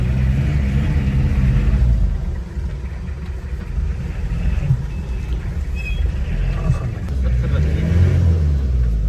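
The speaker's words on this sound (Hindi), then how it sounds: "हाँ कीचड़ में फंस जाता, टायर घूमता रहता उधर ही।" A jeep stuck in mud on a snowy mountain track rumbles in a steady, loud low drone with tyres churning, while people talk over it.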